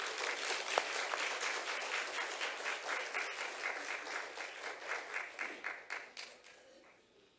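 A church congregation applauding to welcome a pastor, a full round of clapping that stays steady, then thins into slower, separate claps and fades out.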